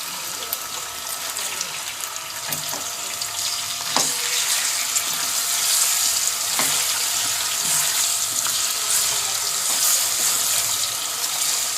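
Chicken pieces frying in a pan with dark-browned garlic-ginger paste for a pickled chicken curry, giving a steady, close, loud sizzle with occasional sharp crackles and pops and no talk.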